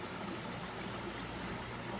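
A clear freshwater stream along a long-distance hiking trail, flowing with a steady, even rush of water, close by and continuous without any voices.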